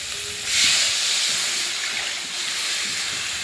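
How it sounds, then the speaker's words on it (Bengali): Water poured into fried spice paste in a pan for a fish curry, giving a loud, broad hissing sizzle that swells early and then settles into a steady bubbling hiss. "এবারে জল দিয়ে দেবো"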